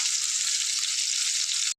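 Pointed gourd (potol) frying lightly in oil makes a constant bright sizzle that stays even and close, then cuts off abruptly just before the end.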